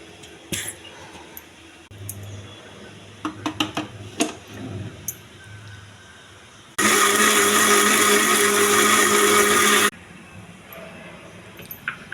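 A mixer grinder blends pomegranate seeds for juice in a loud, steady whir lasting about three seconds, preceded by clicks and knocks as the jar is set in place, with no talking.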